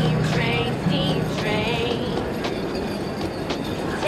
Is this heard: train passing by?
yes